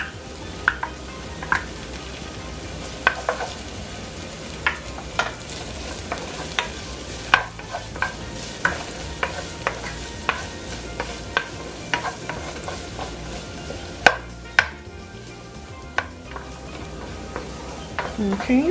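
Minced garlic frying in a pan while being stirred, a steady sizzle with frequent scraping clicks of the utensil against the pan throughout.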